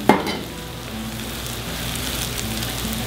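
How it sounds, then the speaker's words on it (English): Onions sautéing in oil for a vegetarian meatless burger, a steady rain-like hiss of sizzling that follows a brief clank at the start, even and close with no voices. "I'm gonna saute my onions"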